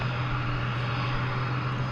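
A departing UPS MD-11 jet with Pratt & Whitney engines at DFW Airport at night, a steady, loud broadband engine roar with a low droning hum, continuous throughout with no voices.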